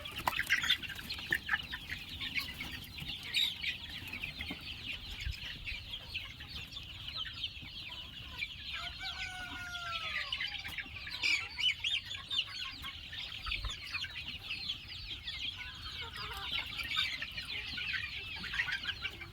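Many chickens cluck and chatter together on a poultry farm, a dense, faint, continuous flock murmur with occasional louder calls rising from the mass.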